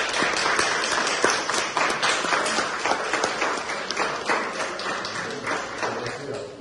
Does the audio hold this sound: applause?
yes